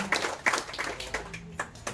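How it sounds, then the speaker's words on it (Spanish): A small audience at a conversation event claps for a guest, with sparse, individual hand claps sounding at uneven intervals over a soft background, fairly faint and brief. "un aplauso para Dagoberto Gutiérrez"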